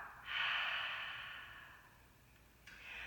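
A slow breath exhaled through the mouth during a seated chair yoga session, a soft airy rush lasting about two seconds and fading, followed by the start of another breath.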